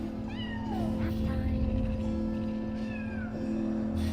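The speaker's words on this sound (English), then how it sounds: "When you reach the other side, you'll find a huge sleeping cat." A huge sleeping cat in the video game Split Fiction gives several drawn-out meows with rising and falling pitch, playing over steady game music and a constant low hum.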